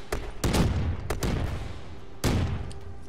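Gunfire in the Black Ops 3 video game: several sharp, loud shots in quick irregular bursts, a pair near the start, another pair around the middle and a final heavy blast later, each trailing off into a ringing echo.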